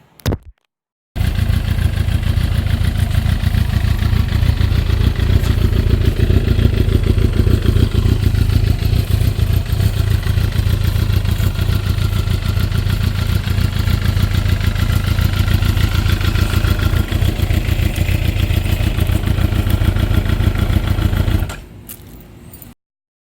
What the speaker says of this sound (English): I had the bike started, but it was running mad rough